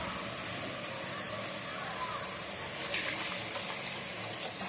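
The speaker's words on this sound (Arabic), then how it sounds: "احط ميه" Water is poured into a cooking pot while making chicken kabsa, a steady broadband rush of liquid filling the pot at close range, continuous and fairly loud throughout.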